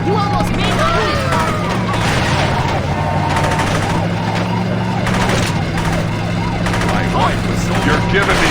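Wailing ambulance siren in the Saints Row video game, steady and loud throughout, mixed with a low droning engine and bursts of gunfire-like crackle in a busy street scene.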